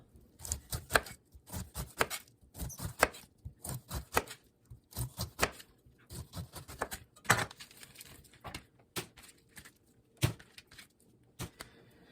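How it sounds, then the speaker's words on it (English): Knife slicing the sides off a pineapple on a cutting board, a series of crisp close chops and scrapes in irregular bursts, with quiet gaps between strokes. "I will cut down and cut off the sides"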